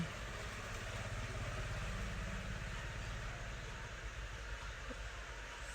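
A sewing machine runs steadily, stitching the hem along the edge of a baby girl's frock, giving a continuous close mechanical whir with a fast rhythmic chatter that eases slightly near the end.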